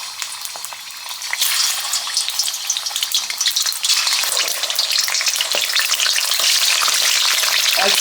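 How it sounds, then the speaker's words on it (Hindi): Chicken pieces fry in about a cup of hot oil, with a steady broadband sizzle that jumps louder after the first second and stays intense and continuous, with occasional stirring scrapes and no talking. "जैसे ही ऑयल हमारा गर्म होगा तो चिकन डाल देंगे।"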